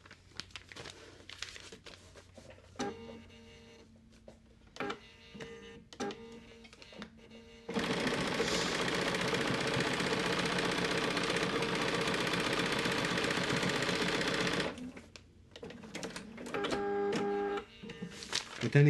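A sewing machine stitches fabric quilt blocks in a long continuous whir, with shorter start-stop bursts of running before and after the main stretch.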